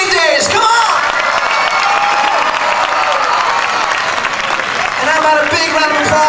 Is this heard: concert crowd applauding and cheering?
yes